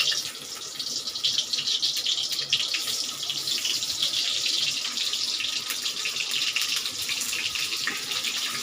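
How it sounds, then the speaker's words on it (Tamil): Cooking oil poured into a kadai before frying pieces of chicken seekh kabab, a steady hissing stream that runs unbroken and fairly loud throughout, with no talking. "எண்ணெய் விட்டுடுறேன்."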